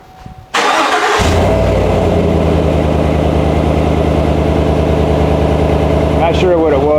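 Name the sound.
Chevy Silverado starting with FlowMaster 40 Series exhaust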